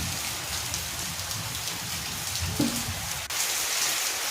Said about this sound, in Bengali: বাইরে বৃষ্টি হচ্ছে দেখুন।